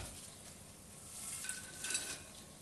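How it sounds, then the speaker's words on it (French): Hot, freshly made popcorn is poured from a pan onto a plate, giving a soft, faint rustling patter that swells in two short bursts toward the end, with no talk. "Voici le pop-corn tout chaud. Donc on vient verser dans une assiette."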